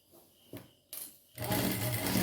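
A sewing machine stitches a uniform skirt, with short bursts of running and then a sustained loud whirring run at the end.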